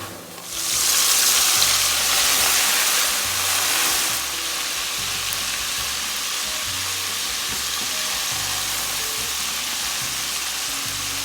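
Flour-dusted calamari fry in hot oil, a loud, dense sizzling hiss that bursts up as the pieces go in and then settles into a steady, slightly calmer crackle, close and without talk.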